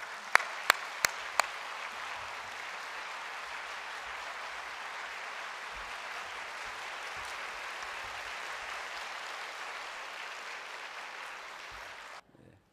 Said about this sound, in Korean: 우리 로저 목사님 소개할 때 큰 박수로 환영해 주시기 바랍니다